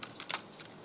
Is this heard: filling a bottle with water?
no